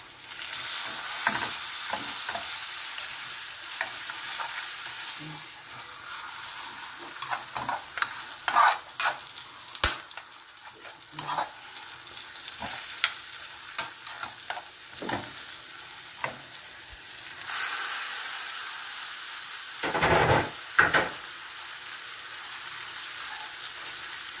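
Beef shank sizzling and frying in a pan, with repeated scraping and stirring strokes and occasional clatter over a quiet background sizzle.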